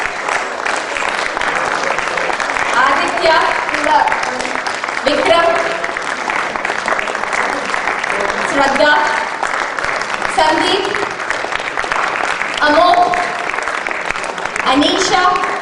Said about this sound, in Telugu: చప్పట్లు చాలా వీక్గా ఉన్నాయి